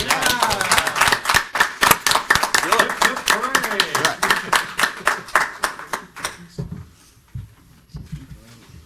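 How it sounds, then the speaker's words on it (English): Board meeting room fills with a round of applause, brisk overlapping claps from a modest group for about six seconds before tapering off into quiet, with voices mixed in. "Can we give her a Yeah. round of applause?"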